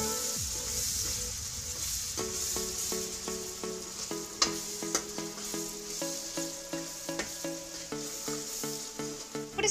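Rice mixture stirred as it fries in oil with a pinch of asafoetida, close and steady sizzling with repeated scraping strokes of a spoon against the pan, no voices.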